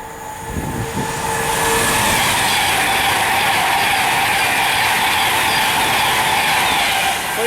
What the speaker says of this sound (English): Next train to come through is a Virgin Trains Pendolino bound for